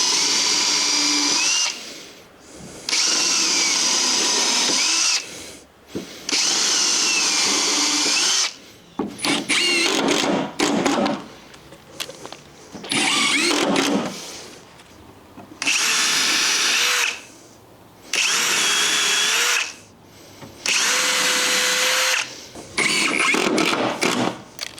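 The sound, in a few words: power drill driving screws into deck joists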